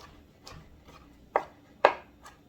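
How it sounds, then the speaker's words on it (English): A rough chop of a good handful of ingredient for stuffing, heard as a few sparse knife strikes on a board, with two sharp, distinct chops standing out amid softer taps, close and fairly quiet. "So I'm just gonna chop like a really good handful, and it's going to get incorporated into my stuffing, and it's just gonna be a rough chop"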